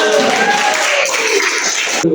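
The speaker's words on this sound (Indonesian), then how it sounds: "Kita tepuk tangan dulu" Students in a mathematics classroom give a burst of applause, a dense, loud clatter of many hands mixed with voices and cheering that cuts off abruptly near the end.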